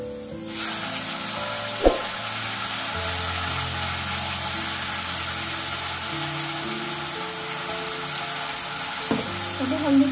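Mustard masala fries in a pan, a loud continuous sizzle close by with a couple of sharp utensil knocks and scraping stirs.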